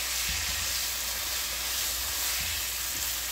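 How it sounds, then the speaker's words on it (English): Leftovers fry in a Ninja 10.5-inch non-stick fry pan, giving a loud, steady close sizzle and hiss with faint crackles underneath, no talking. "Look how clean that fries up."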